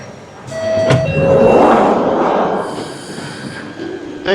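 A London Underground Hammersmith and City line train runs close and loud, with a rumbling roar, brief wheel squeals and tonal whines, and the noise easing toward the end.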